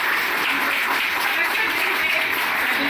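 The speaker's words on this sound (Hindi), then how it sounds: "जोरदार तालियों के साथ" Loud, steady applause from an audience at a hospital health initiative event in Patna, a dense unbroken wash of many hands clapping close by for the whole stretch.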